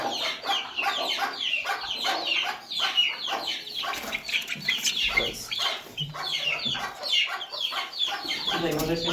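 Chickens clucking and squawking inside a chicken coop on a cold morning, a dense, continuous flock chatter with overlapping calls throughout, fairly close and loud.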